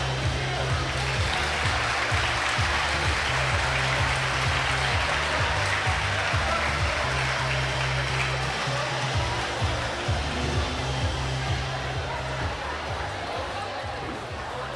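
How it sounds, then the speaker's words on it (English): Sustained loud applause from a crowd at a flower cup tournament finals honouring the volunteers, dense and continuous clapping with crowd noise and voices mixed in, steady throughout before tapering slightly. "Clap your hands for all the volunteers"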